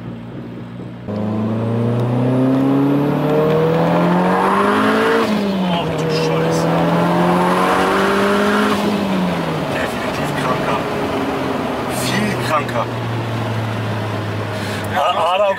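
An Audi S3 fitted with a GTX30 turbo pulls hard under boost, its engine note climbing loud and steady with rising and falling pitch through gear changes, while people talk inside the car.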